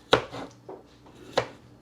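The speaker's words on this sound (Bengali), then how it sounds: "যা শশা কাটছি আমি" A knife chops cucumber on a board for homemade egg rolls. Two sharp, close knocks come about a second and a quarter apart, with a softer cut between them, and the cutting is otherwise quiet.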